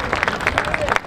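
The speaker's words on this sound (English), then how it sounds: "Give her a round of applause." Scattered hand claps from an audience at a Texas Independence Day opening ceremony ring out after a high school drummer's performance, moderately loud and fairly close, with a faint murmur of voices beneath the clapping.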